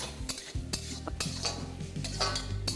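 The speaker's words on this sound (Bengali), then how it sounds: "পেঁয়াজটা কিন্তু বেশ অনেকটাই এখন লাল লাল হয়ে ভাজা হয়ে আসছে।" Onions frying in plenty of oil for Bengali chicken kosha, a steady sizzle broken by repeated scraping and clinking as a metal spoon stirs them around the pan, close and fairly loud.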